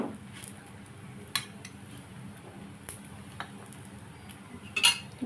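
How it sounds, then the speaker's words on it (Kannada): Quiet stirring of paneer curry in a pan for a dhaba-style dish, a soft background sizzle broken by occasional light scrapes and clinks of a spoon against the metal. "ಈಗ ತಿರುಗಿಸಾಕೊತಾ ಇದ್ದೀನಿ."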